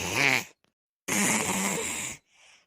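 A person's voice imitates snoring, two exaggerated rasping snore sounds separated by a pause, close and loud, followed by a softer breathy exhale.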